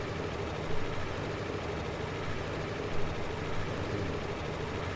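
A small, inexpensive tractor engine in Farming Simulator 22 runs steadily at a low idle: a continuous, even rumble with a couple of slight surges, heard alone without talk.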